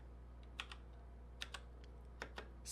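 Short bursts of computer keyboard typing entering a command, a few quick clustered keystrokes in three small groups, close and quiet with no talk.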